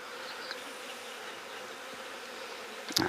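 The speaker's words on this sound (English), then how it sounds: "Some happy little bees over here." Honey bees from a nuc hive hum in a steady, even drone for a few seconds, with a brief louder buzz close by at the end as one passes near.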